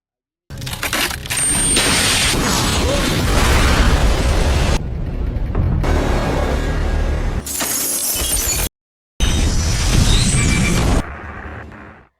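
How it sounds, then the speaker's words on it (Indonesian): Airliner cockpit windshield suddenly shattering in flight, heard as loud, sustained bursts of violent cracking and roaring noise with abrupt cut-offs and a brief silent gap, no talking. "Kaca depan sebelah kanan kokpilot tiba-tiba pecah."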